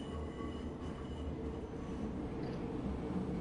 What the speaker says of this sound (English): That's the other train coming from Warschauer Straße, I think.